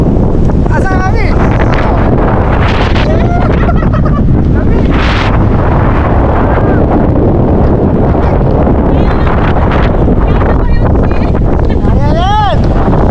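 Strong wind at a seaside campsite in Bangui, Ilocos Norte buffets the microphone in a loud, constant roar, with people talking intermittently through it.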